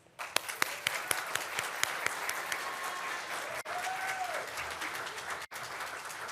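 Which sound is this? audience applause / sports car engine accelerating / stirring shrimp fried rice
audience applause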